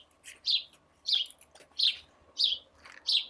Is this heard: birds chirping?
yes